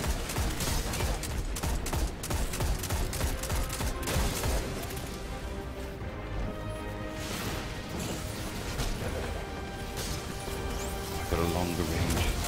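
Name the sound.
Graviton Forfeit gun firing and explosions in Destiny 2 video game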